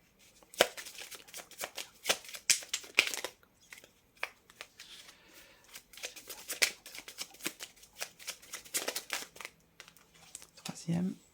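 Tarot cards riffled, slid and drawn one by one during a reading, a string of crisp papery flicks and taps with brief pauses between, close and fairly quiet.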